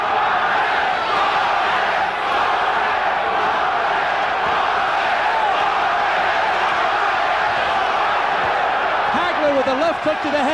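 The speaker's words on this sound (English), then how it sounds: "the crowd is chanting Duran's name" A boxing crowd at the 1983 Marvin Hagler versus Roberto Duran fight chants Duran's name in a loud, sustained arena roar that fills the whole stretch, with rhythmic rises in the massed voices.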